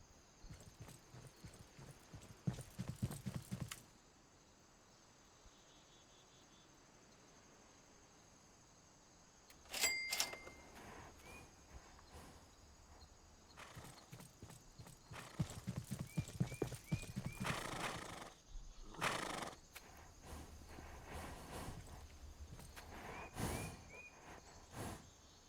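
Horses at a horse market clop their hooves in irregular bursts and let out a neigh, fairly close, with quieter gaps and a faint insect chirr in the background.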